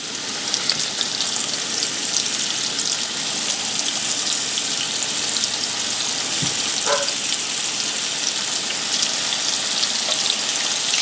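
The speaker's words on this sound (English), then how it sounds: "Good old-fashioned cast iron skillet. Let's fry this bad boy." Wild hog backstrap fries in a cast iron skillet, giving off a steady, close hiss and sizzle with fine crackle. One brief knock sounds partway through.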